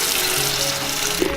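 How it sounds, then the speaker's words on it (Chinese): Salted chili peppers being rinsed in clean water at a kitchen sink, a steady close splashing and trickling wash with no talking. "再用清水给它洗一下"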